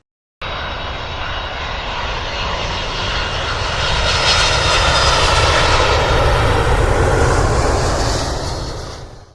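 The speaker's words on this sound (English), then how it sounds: "And now we are preparing for landing in Bangkok" Inside the cabin of a Thai Airways airliner descending to land in Bangkok at night, a loud, steady engine roar with broadband rushing swells gradually and then eases near the end, with no voices.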